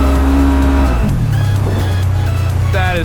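A Duramax pickup truck's engine roars loud and near as its tires spin, the pitch dropping sharply after a second as the revs fall, then settling into a steady rumble, with a brief squealing whine near the end.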